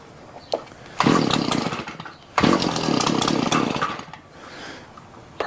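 A Shindaiwa edger's small two-stroke engine fires in two short bursts that sputter and fade instead of revving up, with brief quiet gaps between attempts, loud and close.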